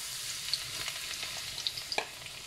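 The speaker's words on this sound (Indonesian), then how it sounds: "sekarang ini minyaknya sudah panas, saya mau masukkan bawang putih dulu" Garlic frying in hot oil for yellow fried noodles, heard as a soft, steady sizzle punctuated by a few light clicks and scrapes of a spatula stirring in the pan, with no voices.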